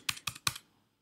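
Three quick, crisp keystrokes on a computer keyboard, evenly spaced and close up, followed by silence.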